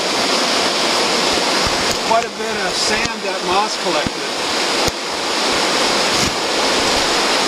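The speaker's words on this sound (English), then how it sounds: "I'm going to take it in the water and wash it." Cold creek water rushes and splashes steadily and close by while a rock is washed in it, with someone speaking briefly over the constant flow.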